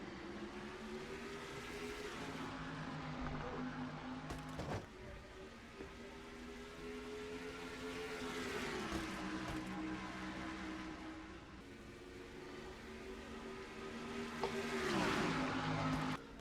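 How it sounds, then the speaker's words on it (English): A pack of stock cars roars away at the start of a race at Charlotte Motor Speedway, a continuous loud blend of engine drones that rise and fall in pitch as they pass, without talk. "the green flag flies, and the Winston Open is underway here at Charlotte Motor Speedway"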